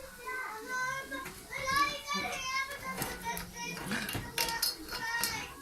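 Children playing and chattering outdoors, several young voices calling and talking at a moderate distance in a continuous lively stream.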